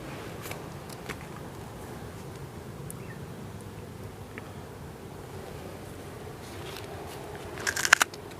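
Someone bites into a large, crisp premium date fruit. After a quiet stretch, a short burst of crunching bites lands near the end.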